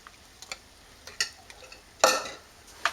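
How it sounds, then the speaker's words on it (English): Mead is stirred in a vessel after nutrients go in, heard as sparse close scrapes and clinks of a utensil, with one louder splashy swish near the end. "Give it some more stirring."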